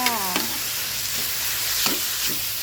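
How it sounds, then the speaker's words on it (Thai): Pork stir-frying in a hot pan gives a steady close sizzle, broken by a few sharp scrapes of the spatula stirring the meat. "ใส่หมูลงไปผัดเลยนะคะ ผัดไปเรื่อยๆจ้า"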